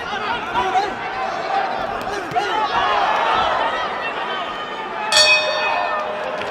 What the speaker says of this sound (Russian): 10 секунд до гонга.